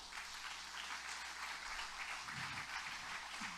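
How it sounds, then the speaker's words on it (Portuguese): Congregation applause during a church sermon, a faint, steady patter of many hands clapping heard from a distance under low room hum. "Quem vai aplaudir a Deus aqui?"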